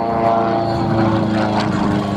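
Light two-seat propeller airplane with a 200-horsepower engine at a Marine Corps air station airshow in Beaufort, South Carolina, a loud, steady droning buzz of engine and prop held close by.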